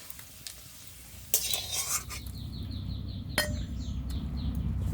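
Water lily stems being stir-fried with sugar in a pan, with a steady close sizzle, sharp scrapes and clinks of a utensil against the metal, and a faint bird in the background.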